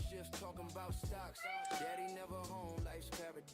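A cat meows several times in drawn-out, wavering cries, close and fairly loud, mixed with music and someone speaking.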